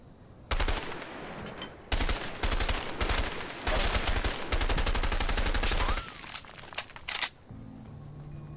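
Bursts of automatic gunfire in the co-op prison-escape game A Way Out, loud rapid volleys of shots broken by short pauses, with no talk over them.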